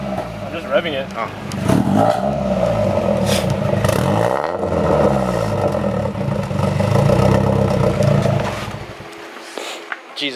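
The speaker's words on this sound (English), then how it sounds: "I'm just revving it." A Nissan 240SX S13, running rich, with a Spec D catback exhaust, revs repeatedly, the pitch sweeping up and down through several loud throttle blips before cutting off near the end.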